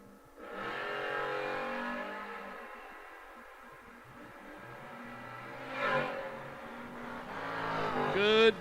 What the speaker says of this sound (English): Good drag race, and Cason Arnott said, yeah, it's a real go